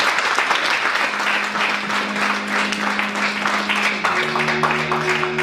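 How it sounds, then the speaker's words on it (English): Church congregation clapping hands at a Sunday service, brisk dense applause close by, with a sustained tone, likely from an instrument, coming in underneath toward the end. "Let's clap our hands for Jesus once again."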